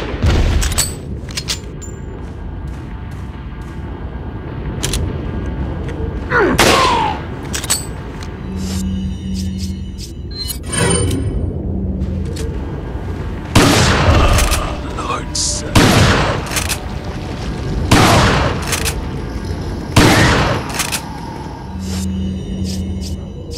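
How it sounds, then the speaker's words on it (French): Several loud, booming blasts from incendiary grenades in the video game Resident Evil 4, spaced a few seconds apart over a steady game soundscape. "Balancer une grenade incendiaire."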